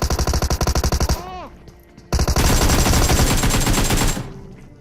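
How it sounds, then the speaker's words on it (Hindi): Gunfire in a ranked-match battle royale video game: rapid, loud automatic bursts of machine-gun fire, a short pause with a ricochet-like whine, then another sustained close volley. "यहाँ पर ना ऑलरेडी फायरिंग हो रही थी इस वाले घर से।"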